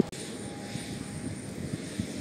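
Aircraft engines drone steadily at Zaporizhzhia airport while passengers walk out to board on foot, a continuous broadband roar with a faint high whine, fairly close and unbroken.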